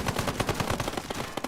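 Rapid video game gunfire rattles off in a steady automatic burst of about fifteen close, sharp shots with no talking.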